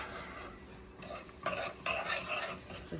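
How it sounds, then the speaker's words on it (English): A spoon stirs thick peanut butter fudge mixture in a pot over moderate heat, making soft, close scraping strokes in uneven bursts against a quiet background. "Now, I'm gonna mix this up. Get it to come to a boil. Just mix that all together in there."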